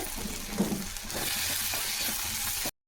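Onions frying in a pan for road-side-stall style salna, a steady close sizzle with a few soft stirring scrapes early on, running unbroken before cutting off abruptly, no voices.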